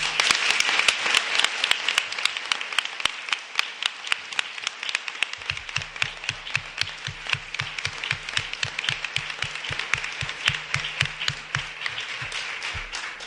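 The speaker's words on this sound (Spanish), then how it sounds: "un aplauso por Juan, por favor" An audience applauds steadily and at length for Juan at a book presentation, dense clapping from a crowd with a rhythmic, tap-like beat joining in midway.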